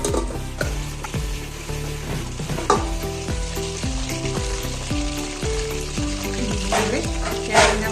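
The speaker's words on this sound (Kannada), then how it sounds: "ಇದಕ್ಕೆ ಮತ್ತೆ ಪ್ಲೇಟ್ ಮುಚ್ಚಿ ಸಣ್ಣ ಫ್ಲೇಮಲ್ಲೇ ಇನ್ನು 2-3 ನಿಮಿಷ ಬೇಯಿಸೋಣ" Chicken lollipops fry under a covering plate on a low flame, with steady dense sizzling and crackling throughout plus a rhythmic low mechanical hum and a few louder pops.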